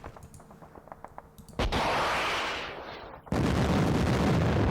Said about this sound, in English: he just hit us with artillery as well